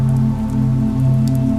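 Steady rain falls on a surface throughout, a dense continuous patter under a low constant hum, with no voices.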